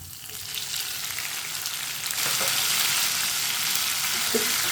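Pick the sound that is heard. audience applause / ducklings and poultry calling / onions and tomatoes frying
onions and tomatoes frying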